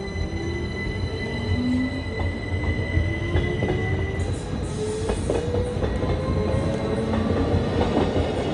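Bernina Express train rolling on rails through the Poschiavo Valley, a continuous close rumble with rhythmic wheel clicks and occasional faint squeals, with no voices.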